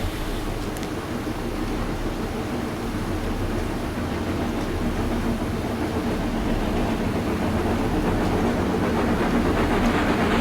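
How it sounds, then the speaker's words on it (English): A steam tourist train in Farming Simulator 19 rumbles steadily and loudly throughout, with a continuous low rolling clatter of wheels on track and no voices. "And there is our tourist train."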